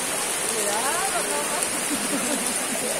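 Rain begins falling at an outdoor organic farmers' market in Shushufindi, Ecuador, a steady close hiss of drops on surfaces while people chatter and talk underneath.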